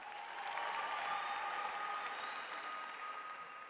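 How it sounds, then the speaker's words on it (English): Steady applause from an audience in an indoor dome arena at a netball cup opening in Swakopmund, Namibia, holding a dense, even wash of clapping at a moderate distance for the full stretch. "Give her a warm round of applause"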